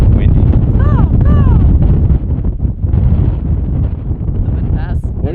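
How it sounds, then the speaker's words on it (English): Loud, strong wind on the Pacific Crest Trail roars and buffets the microphone continuously, with a few faint high whistling or bird-like calls breaking through the gusts. "Really windy."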